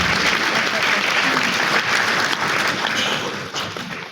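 A large audience at a counselors' induction ceremony claps steadily and loudly, a dense continuous wash of applause that tapers slightly toward the end.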